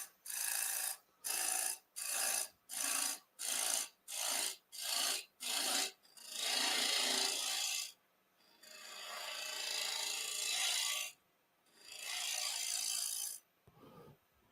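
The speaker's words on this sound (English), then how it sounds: "So I'm going to go back to the bowl gouge a bit," Bowl gouge cutting a wooden tenon on a spinning lathe: a run of short rhythmic scraping strokes, then longer sustained rasping passes, close and loud, with no talking.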